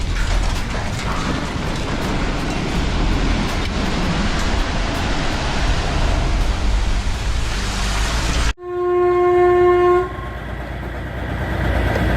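A loud, steady rumble and clatter of a passing train, cut abruptly by a sharp ringing tone, then more rumbling.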